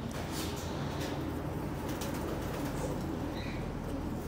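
Pigeons in a loft and aviary give soft, low cooing amid a busy background of wing flutters and faint chirps, steady and moderately close throughout.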